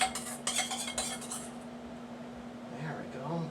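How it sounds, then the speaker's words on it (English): Spoon scraping and clinking against a dish while spreading honey mustard over chicken, several quick metallic strokes at first, then softer smearing, with a voice talking quietly at the end. "Smear that around with a spoon"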